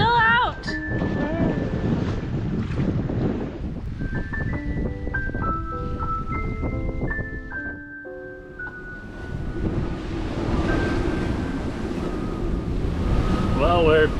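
A sailboat beating into a decent swell against about 25 knots of wind off the French coast, with a constant roar of wind and rushing water close by and some faint tonal whistling from the rig partway through.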